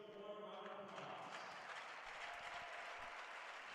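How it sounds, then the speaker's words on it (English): Brief, faint applause from an audience at a youth hockey game, a soft wash of clapping with no single claps standing out, heard from a distance in the arena. "Let's give them a warm round of applause."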